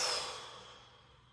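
A single slow, deep exhale during a gentle yoga stretch, soft and close, fading away over about a second with no talking.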